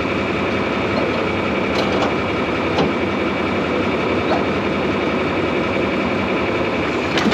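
Tractor engine idling steadily while tractors are moved around and hitched, a dense continuous rumble filling the whole stretch with a few faint clanks, no talk.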